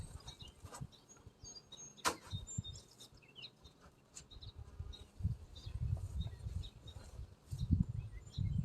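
Honey bees buzzing at an open hive: a close, fluctuating low drone of wings that swells and fades, with occasional sharp clicks and bird chirps in the background.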